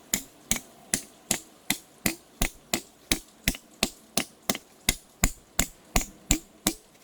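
A hammer strikes rock over and over to split it, about twenty-five sharp, evenly spaced blows in a steady rhythm. The knocks are close and clear against a quiet outdoor background with no talk.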